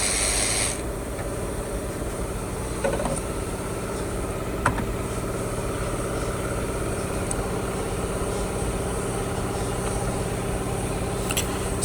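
A ratchet wrench with a number 10 socket works loose a hose in the engine bay of a Toyota Corolla 1.8, giving a few faint, scattered clicks over a steady mechanical hum.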